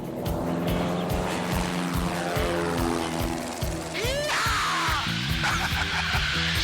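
A small propeller plane, an RV kit aircraft, flies on a training flight, its loud droning engine steady and close, with pitch sweeps as it manoeuvres and a brief whistling rise midway.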